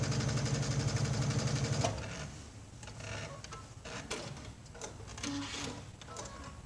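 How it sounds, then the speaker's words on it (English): A sewing machine fitted with a MuVit digital dual feed foot stitches fabric in a fast, rhythmic mechanical whir for about two seconds, then stops, leaving quieter handling sounds and small clicks. "it's really a fun foot to sew with because you can just feel the power and the difference in how it performs with the fabrics"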